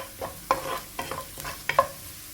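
Fennel seeds and garlic fry in hot oil for a Kerala squid masala, giving a soft sizzle broken by a few sharp scraping stirs of a spoon in the pan.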